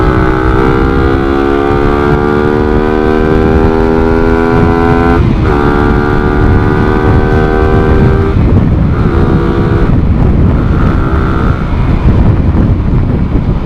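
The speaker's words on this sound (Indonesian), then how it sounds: "Motor kenceng-kenceng banget sekarang." Loud motorcycle engines roar steadily, their pitch climbing as they rev, breaking off briefly and then surging again, with heavy wind rumble throughout.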